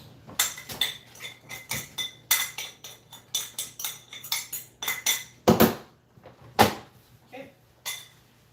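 A dish is scraped with cutlery, clattering and clinking in a run of close, sharp knocks and scrapes, then set down in the sink with louder clanks, after a meal of hash browns.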